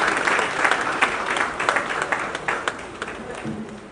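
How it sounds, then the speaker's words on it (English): An assembly at a police hospital co-operative credit union event breaks into loud, sustained applause, a dense steady wash of many hands clapping throughout. "with a standing ovation and a round of applause"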